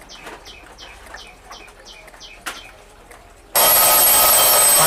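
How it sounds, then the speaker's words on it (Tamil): An antique mechanical alarm clock without a battery, first ticking and clicking briefly as it is set by hand, then its bell bursts into a loud, continuous metallic ringing that runs to the end. "இதை நீங்கள் அட்ஜஸ்ட் பண்ணிங்கன்னா உங்களுக்கு அலாரம் ஆன் ஆகும்"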